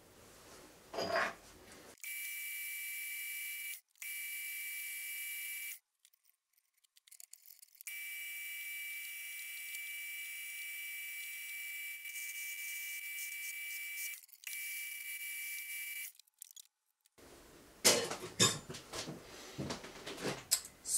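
Mini mill cutting aluminum with a carbide tool gives a steady high-pitched whine in long stretches broken by short silences, with clattering handling noise at both ends, moderately quiet with no talking.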